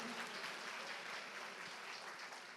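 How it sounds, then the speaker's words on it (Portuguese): A church congregation applauds in a sustained, even wash of clapping, fairly faint and distant, with no clear speech over it. "Pode aplaudir e dar um glória a Deus."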